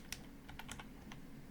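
A computer keyboard being typed on at a Windows 10 PC while a ping command is entered, a short run of crisp, close keystrokes in an irregular rhythm, with no voices.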